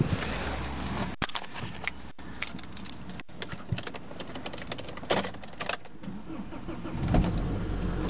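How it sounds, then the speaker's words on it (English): A Volvo S60 with about 130,000 miles starts and runs, giving a loud, steady engine rumble close by for several seconds with no one talking. "Vehicle starts nicely."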